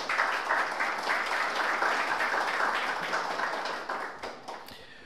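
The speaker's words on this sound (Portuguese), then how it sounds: "Vamos saudá-lo com uma salva de palmas, por favor." An audience at a theology lecture gives a round of applause welcoming a professor to the table, sustained clapping from many hands that gradually tapers off toward the end.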